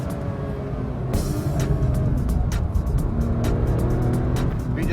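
A Singer-reworked classic Porsche 911 being driven, its engine note loud and continuous, holding a steady throttle with a few sharp crackles or shifts mixed in.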